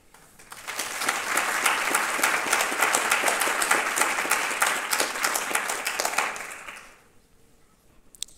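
At a 2019 MLK celebration, an audience applauds the essay contest participants with steady, full-room clapping that swells quickly, holds for several seconds, then stops, leaving near silence with a single faint tap at the end.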